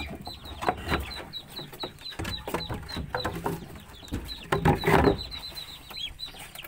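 Chickens and ducks on a farm cluck and squawk in a busy, overlapping chorus of short calls close by, with sharper bursts of fowl noise throughout.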